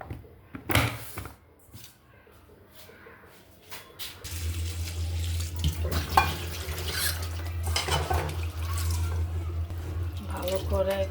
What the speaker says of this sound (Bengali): চিরা ধোবো